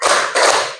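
Two loud, sharp hand claps, close together, from a classroom clapping game, with no talk over them.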